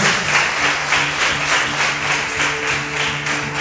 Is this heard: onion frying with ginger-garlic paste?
no